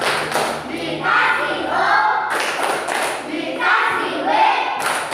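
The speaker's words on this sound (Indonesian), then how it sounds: "kita kasih tepuk lagi kelompok kedua" Classroom children clapping together for the second group, a loud, dense, sustained patter of many hands close by, with shouts and excited voices mixed in.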